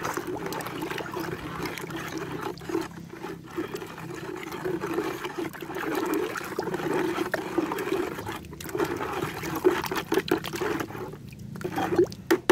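Water swirls and trickles steadily as it is stirred in a container to soak chili seeds before planting, a continuous soft liquid churning with small splashes heard up close.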